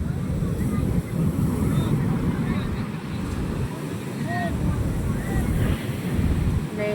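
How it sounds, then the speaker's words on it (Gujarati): Strong ocean waves surge and crash with a heavy rumble at Madhavpur beach, wind buffeting the microphone and faint voices in the distance. "મોજા તો જોરદાર"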